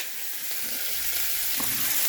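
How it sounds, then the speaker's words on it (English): Bacon slices sizzle in a frying pan, a steady close hiss of fat that swells slightly louder toward the end, with no talking. "Oh, that's sizzling real good though."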